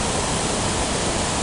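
Trafalgar Falls in Dominica, a constant broadband rush of falling water, loud and unbroken, with no voices over it.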